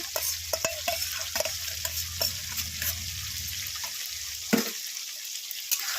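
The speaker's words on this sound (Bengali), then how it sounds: "এবারে আমি সব রকমের মশলা দিয়ে দিলাম, আদা রসুন, তারপরে জিরে ধনে, একটু অল্প একটু লঙ্কার গুঁড়ো দিয়ে এখানে কষাবো" Ginger, garlic, cumin, coriander and a little chili powder frying and being stirred in hot oil in a home kitchen pan while cooking egg biryani, a steady close sizzle with repeated scraping stirs, no talk.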